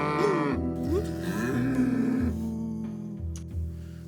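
A cow moos loudly and close, a long wavering low call lasting a few seconds with brief pauses, alone with no talk.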